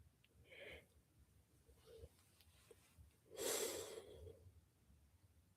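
Deep breaths drawn in through the nose and let out through the mouth during a calm guided pause, with a soft inhale early on and a louder, fuller exhale near the end over quiet room noise.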